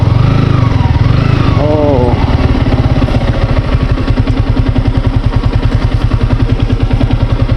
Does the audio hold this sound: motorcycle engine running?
yes